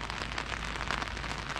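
Steady rain falls outside in a residential neighbourhood, a dense, even patter of drops on surfaces that fills the moment without any voices.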